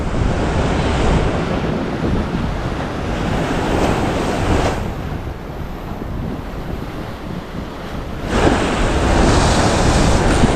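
Sea waves break and wash continuously against a rocky Konkan shoreline where someone fishes with bait, a loud, close roar of surf with gusty wind buffeting the microphone and a brief lull midway.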